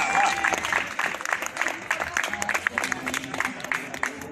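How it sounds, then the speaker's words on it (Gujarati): Children clapping during a sports day prize distribution, a dense patter of many small hands that runs steadily throughout, with faint crowd murmur and a brief voice or whistle-like tone underneath. "બાળકોને નમ્ર વિનંતી કે તાળીઓ પાડે"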